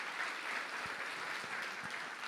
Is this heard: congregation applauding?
yes